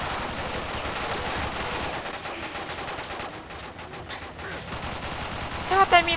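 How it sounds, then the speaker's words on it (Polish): Dense, continuous gunfire in a video game, a sustained rattling barrage of shots at steady loudness with a few sharper bursts near the end. "Strzelają!"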